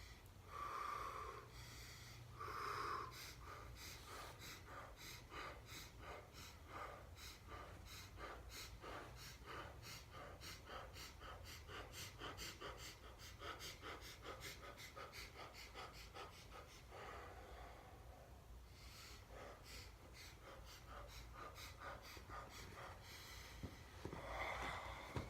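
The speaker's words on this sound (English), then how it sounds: "you can practice your burst breath, inhale, exhale, all the way down" Systema burst breathing during a slow sit-up: rapid, rhythmic bursts of forceful inhales and exhales through the nose and mouth, close and steady for the whole stretch with no talking.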